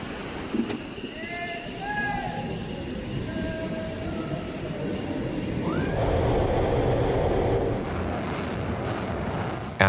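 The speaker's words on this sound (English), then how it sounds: "they start the engines and taxi toward the runway" A US Air Force F-15 fighter taxiing toward the runway on a red-alert scramble, its jet engines giving a steady loud roar with whining tones that rise in pitch midway, continuous throughout.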